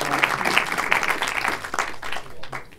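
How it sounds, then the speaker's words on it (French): An audience claps for a speaker being introduced at a talk, a steady burst of applause with dense overlapping hand claps throughout, close and fairly loud. "Vous pouvez déjà l'applaudir."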